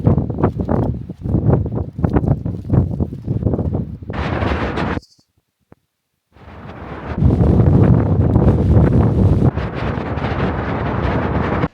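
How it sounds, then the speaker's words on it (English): Strong wind roars and buffets the microphone in sustained loud gusts, broken by a brief near-silent gap before the blustering resumes. "it's very windy"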